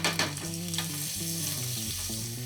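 A cod fillet frying in butter in a pan gives a steady, close sizzle and spatter while being turned, with a low tonal hum running underneath throughout and no speech.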